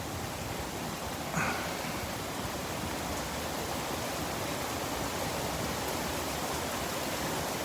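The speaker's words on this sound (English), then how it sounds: "Did you hear that uptick in rain?" Heavy rain pours steadily outside a porch during a Houston storm, a dense, unbroken roaring wash with one brief sharper knock early on.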